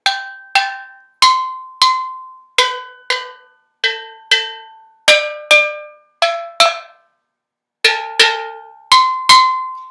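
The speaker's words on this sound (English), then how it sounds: "if I tap it, you can hear" A worn steel pan is tapped note by note, giving about fifteen bright, ringing metallic strikes at different pitches, close and clear, each decaying quickly, with a short pause before the final group.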